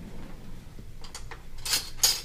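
A small paring knife is picked up from among cutlery in a home kitchen: a few faint clinks of metal on metal, then two brighter chinks close by, with quiet room tone before.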